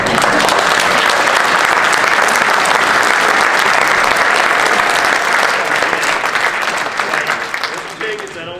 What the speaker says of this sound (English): they really deserve the applause